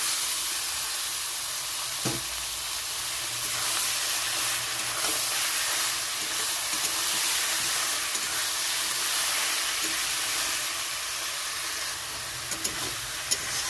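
Greens go into a pan of fried crab, giving a continuous broadband sizzle and hiss that holds steady throughout, with occasional faint clicks and pops.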